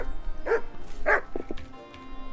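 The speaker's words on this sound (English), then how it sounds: "You silly doggy." A dog barks inside the medieval world of Kingdom Come: Deliverance 2: two short, clear barks about half a second apart, then a few softer yips, over a faint ambient game backdrop.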